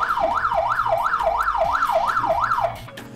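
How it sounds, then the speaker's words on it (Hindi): A wailing siren sounded on a TV game show, rising and falling in a steady, quick rhythm for several seconds before cutting off, loud and close. "आज तो सायरन भी बज रहे हैं।"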